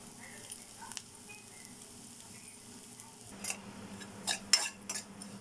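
Garlic, ginger, green chili, carrot and cabbage are stir-fried in a pan, with a soft steady sizzle and sharp clinks and scrapes of a utensil against the pan that get more frequent toward the end.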